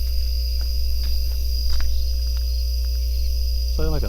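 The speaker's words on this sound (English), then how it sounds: "the hum of crickets filled the air" Crickets chirp at night around a campsite, a steady high-pitched drone over a constant low hum, with faint clicks and a brief warbling tone near the end.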